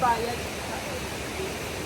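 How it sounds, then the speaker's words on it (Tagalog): Steady rushing water fills the clip, a constant broad wash of a river flowing close by at a campsite in Indang, Cavite, Philippines. "Ito na kami sa ilog."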